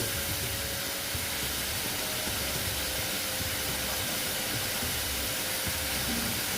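Rui fish curry masala with tomato and turmeric sautéing in a pan, heard as a steady, even hiss of sizzling with no pauses and no talking.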